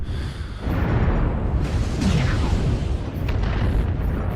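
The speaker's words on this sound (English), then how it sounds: "Warning, incoming missile." Incoming missile explosions in the MechWarrior Online mech combat game, a dense rumbling boom and blast wash that swells and lingers loudly throughout, with no clear talking.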